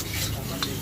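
Fried rice (nasi goreng) with mustard greens is stirred in a sizzling wok at a night street-food cart, giving a steady close hiss of frying with scraping stirs and no talk.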